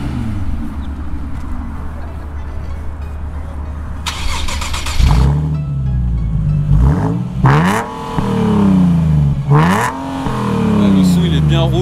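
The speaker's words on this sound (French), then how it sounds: "Là on a suppression de silencieux arrière, un V6" A Nissan Z V6 with its rear silencer removed revs repeatedly, loud and close, with sharp rising and falling throttle blips over a raspy idle.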